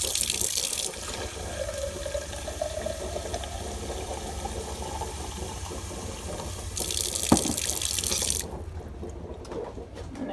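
Water running from a kitchen tap to refill a container, a steady close rush of flowing water with a rising filling tone, ending with a clunk and the flow cut off before quiet.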